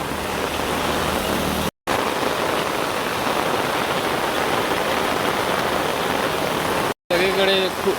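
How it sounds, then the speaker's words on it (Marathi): Heavy rain falls everywhere across flooded Ashagad streets, a loud unbroken roar of water hitting surfaces, cut by two brief dropouts, with a faint tonal sound rising near the end. "सगळीकडे खूपच पाऊस पडतोय, बघू शकता"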